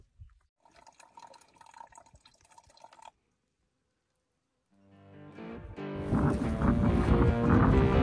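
Water trickles and drips into a small hand-dug pool beside a mountain trail, faint at first, then a pause, then a louder, fuller rushing flow.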